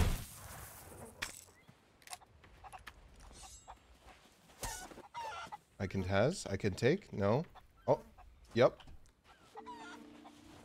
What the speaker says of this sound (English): Chickens! Look at all those.